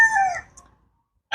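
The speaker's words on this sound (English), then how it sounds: "Got roosters out everywhere." A rooster in Côte d'Ivoire crows once, a loud, close, tapering call lasting under half a second, followed by silence and then the start of another sharp sound.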